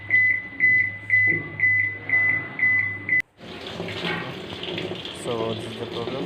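A malfunctioning washing machine with a faulty drain motor emits a steady series of about seven loud, evenly spaced electronic beeps, then falls to a running whir with water and motor noise.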